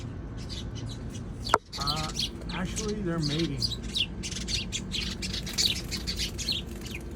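Birds squawk and chirp in a rapid scatter of short calls over a noisy background, with a person talking partway through.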